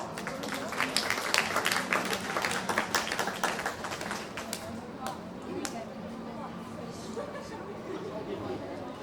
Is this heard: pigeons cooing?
no